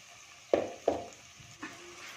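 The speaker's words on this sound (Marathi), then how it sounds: "याच्यामध्ये आपण हे जे घोसळ्याचे काप आहेत ते बॅटरमध्ये डीप करून हे तेलामध्ये एक एक सोडून देणार आहोत" Battered ridge gourd slices dropped one by one into hot oil, each landing with a brief sizzling burst, two close together then a third, settling into a soft steady fry.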